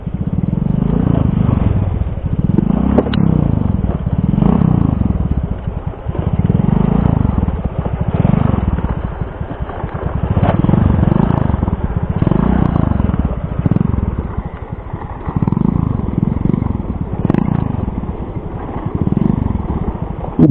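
A motorcycle engine running close by, a loud continuous rumble that rises and falls in repeated revving swells over twenty seconds, with a harsh, strained tone.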